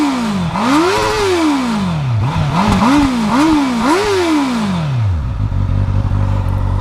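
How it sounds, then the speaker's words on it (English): A 2019 Honda CB650R on its standard exhaust revs several times nearby, the engine note climbing and falling in repeated sharp blips before settling back to a steady idle. "let's have a little listen to this exhaust, because it does sound nice"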